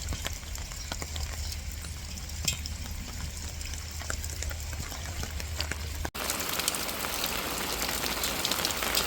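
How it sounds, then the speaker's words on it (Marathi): Heavy cloudburst rain hammers down steadily, a dense, continuous patter on surfaces that grows brighter and louder for the final few seconds, with no one speaking. "पाऊस लय डेंजर पाऊस चालला आहे"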